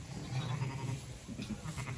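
Sheep in a barn during lambing, bleating low and close, overlapping calls repeating over steady barn noise.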